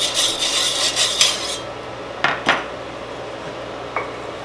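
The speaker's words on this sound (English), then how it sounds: "Again, put a little bit of the bacon grease on there. Spread it around nicely." Bacon grease is spread around a pan for banana pancakes, making a scraping, rubbing sound that starts with rapid back-and-forth strokes, then fades into a few isolated scrapes and taps.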